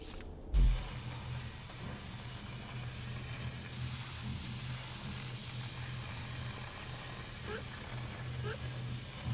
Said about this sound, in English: I think that's the sound of me getting hurt by steam